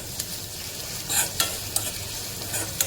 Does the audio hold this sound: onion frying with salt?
yes